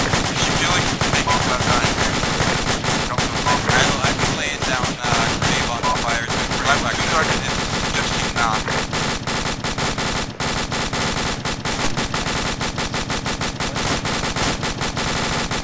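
Sustained automatic machine gun fire and rapid gunshots in the military shooter Arma 2, loud and nearly continuous bursts filling the scene, with voices talking over the shooting.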